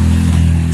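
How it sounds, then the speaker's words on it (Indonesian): A noisy motorcycle engine drones loudly and steadily close by, a continuous low rumbling hum that fills the moment with no other sound standing out. "Sebentar, motor berisik."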